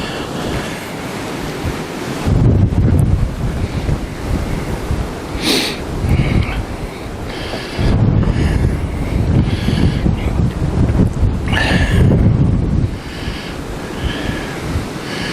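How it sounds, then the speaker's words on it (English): Wind gusting over rippled water at Beverley Beck, a drain channel, with a steady roar of buffeting that swells and eases in several strong gusts and no voices. "it's quite windy at this end"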